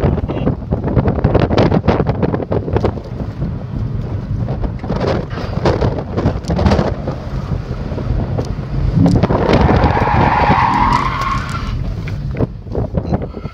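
A Mazda RX8 drifts under throttle with tires skidding: a loud, sustained engine roar and rising rev with a squealing tire screech near the end, all under heavy wind buffeting on the microphone.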